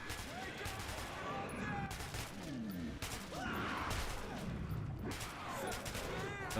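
Gunfire in Metro 2033 Redux, with repeated bursts and volleys of shots running through the whole stretch, fairly dense and mixed with a voice talking over the action.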